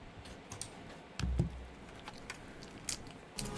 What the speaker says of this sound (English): Tired of typing tons of notes during class?